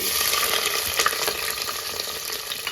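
Cashews and long-sliced onions fry in a pan for coconut milk rice, giving a steady, close hiss of oil with faint stirring scrapes and no talking.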